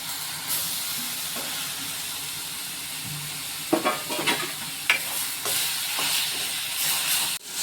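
Onion, tomato and ginger-garlic paste frying in a pan for Nagercoil-style roasted channa kurma, giving a steady close sizzle with a spoon scraping and stirring in bursts toward the end, no voices.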